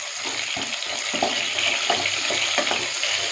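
Onions fry with dried red chillies in a pan for a Kongu-style rice and lentil dish, making a steady, loud, close hiss with soft scraping stir strokes, and no talk.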